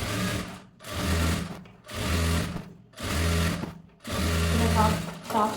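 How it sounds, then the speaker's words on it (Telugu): Sewing machine stitching a piping strip onto a blouse, running in four or five steady bursts of motor whir separated by short pauses, loud and close. "ఈ పైపింగ్ క్లాత్ పై నుండి పట్టీ అనేది ఇలా స్టిచ్ చేసుకోవాలి."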